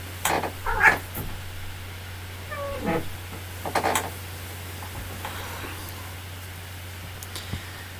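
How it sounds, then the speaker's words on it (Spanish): A pet cat meows a few times while eating, short faint calls spread across a quiet room with a steady low hum underneath. "está mi gatito ahí comiendo"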